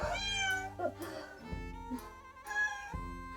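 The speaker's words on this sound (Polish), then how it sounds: "Kotek też chce się wypowiedzieć w tutorialu." A cat meows several times at close range, its drawn-out, wavering calls rising and falling over about three seconds indoors, with no talk over it.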